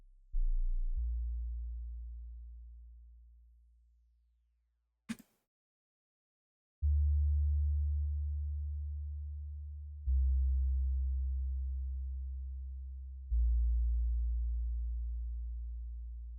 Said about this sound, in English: factory basic shape sine wave.